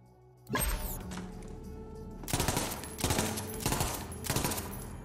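A gun fires in burst mode in the video game Borderlands 3, loud close rapid volleys arriving in repeated regular bursts about a second apart, each a tight cluster of sharp shots over a steady background hum.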